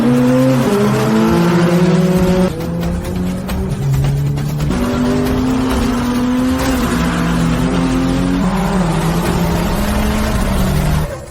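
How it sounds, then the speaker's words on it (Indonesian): Race cars scream past one another on a track during an overtake, loud steady engine drone with shifting pitch, gear changes and a sharp drop partway through, no talk. "Mobil nomor 2 tim Matahari menyalip mobil nomor 2 tim Guntur."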